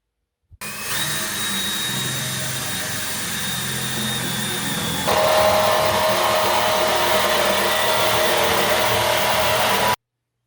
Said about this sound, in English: the tool of choice is a powered jigsaw with a metal cutting blade